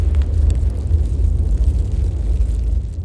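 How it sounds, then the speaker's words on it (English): A loud explosion sound effect in an audiobook rolls out as a deep, rumbling roar lasting about three seconds, heard alone without narration. "there was a loud explosion."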